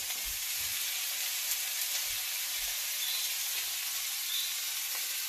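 Onions with salt sizzle and fry in a hot pan, a steady bright crackle with soft low stirring knocks, close and moderately quiet with no voices.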